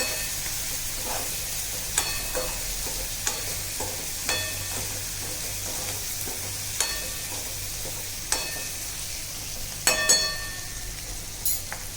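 A spoon stirs potato, pea and capsicum sabzi seasoned with Maggi magic masala in a hot pan, with a continuous light sizzle and regular sharp clinks and scrapes of metal on metal every second or two, close up and without speech.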